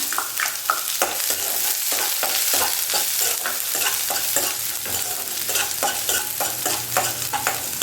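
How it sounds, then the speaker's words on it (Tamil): Mustard seeds, urad dal, red chillies, shallots and curry leaves sauté in hot oil, a steady close sizzle broken by rhythmic scraping strokes of a spoon stirring the pan. "நல்லா வதக்கிக்கோங்க"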